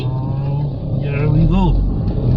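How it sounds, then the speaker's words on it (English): Renault Kiger 1.0 naturally aspirated engine revved against the held brake, rising to a loud drone and swelling in pitch before settling back, heard from inside the car. "Left foot on the brake, right foot on the accelerator. Driving up the motor."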